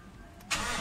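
A Toyota Innova engine cranks and catches near the end, a sudden close burst of starter and engine noise after a quiet moment, heard during a panel gauge repair.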